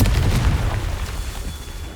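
Confringo and Bombarda spells blast in the Hogwarts Legacy video game, a loud, deep boom that rolls on and slowly fades over two seconds.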